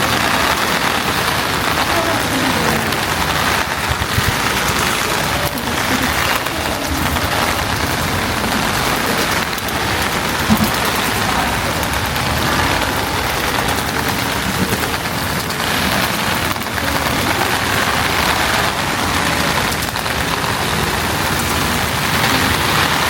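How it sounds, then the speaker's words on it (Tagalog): Heavy typhoon rain pours down on a city street, a dense, steady roar of rain that fills the whole stretch with little change. "Hindi lang pala medyo sobrang maulan."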